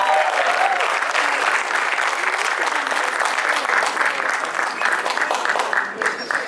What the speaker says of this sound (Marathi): जोरदार टाळ्यांनी स्वागत करूयात संदीप पाठक यांचं